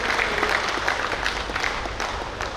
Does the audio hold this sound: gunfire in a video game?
no